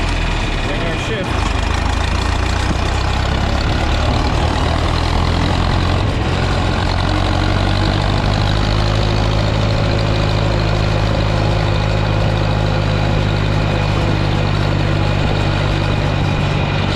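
A John Deere 3010 tractor engine runs steadily in gear, a loud, close, continuous low rumble and drone that holds for the full length without pause, with a person talking over it.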